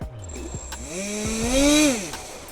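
An H-King Skipper RC plane's electric motor spins up outdoors in snow, a whining tone rising and falling in pitch over a couple of seconds, fairly close and clear.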